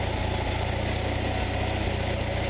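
An Onan engine idles steadily and loudly up close during carburetor idle screw adjustment, with a continuous low throbbing pulse and a broad mechanical rumble, and no voices.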